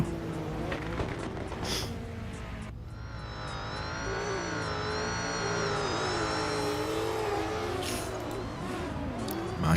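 A Chevrolet Camaro safety car in a racing video game, its engine holding a steady, loud, sustained drone with shifting pitch for nearly ten seconds, joined by brief tire noise.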